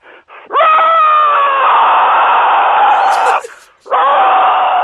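A human voice imitates a vixen fox's mating call: long, loud, wavering scream-like wails, one sustained cry followed by a brief break and another.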